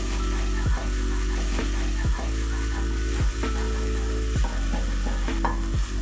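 Spoon stirring tomato paste sauce in a pot on the stovetop, with a steady sizzle underneath and repeated scraping strokes at a regular rhythm, close and clear with no talking.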